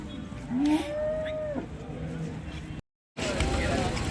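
Pure Jersey cow at the Sangola cattle market mooing once, a long rising-then-level low call, close and loud over market hubbub and people talking, followed by a brief silence and resumed crowd noise.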